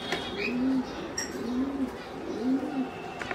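Domestic pigeon cooing close by, three low, throaty coos spaced about a second apart, with faint chirps from other birds in the background.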